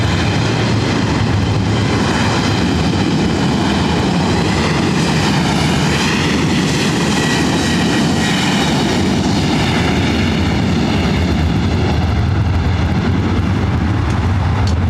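An airplane roars at LAX airport as a loud, continuous broadband engine drone that holds steady for about fifteen seconds and has no talk over it.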